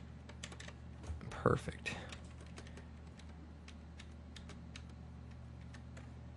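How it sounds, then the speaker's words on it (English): Computer keyboard keys tapped repeatedly while paging through frames in After Effects, light clicks spread across the clip beneath a steady low hum, with a brief spoken word near the start. "I'm just hitting page down and just going through it, and a few more frames, a few more frames"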